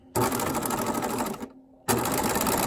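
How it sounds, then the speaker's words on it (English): A sewing machine running fast and loud up close as it stitches a small backstitch on a staystitch sample, a continuous buzzing whir broken by a brief pause before it starts again. "I'm going to lower my needle and small backstitch."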